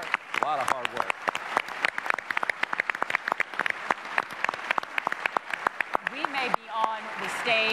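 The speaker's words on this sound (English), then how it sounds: "I actually would like to see if we can get a big round of applause" An audience at a televised 2018 Wisconsin gubernatorial debate gives a round of applause, a dense patter of many hands clapping, close and lively. It gives way to voices speaking at the end.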